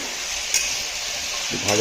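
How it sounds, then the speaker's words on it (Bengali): Potatoes and onions fry in hot oil, giving a brief, close, continuous sizzle with a faint scrape of stirring. "তেল গরম করে প্রথমেই আলু পেঁয়াজটা দিয়ে দিয়েছি"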